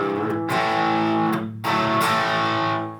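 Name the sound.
electric guitar with an overdrive pedal kicked on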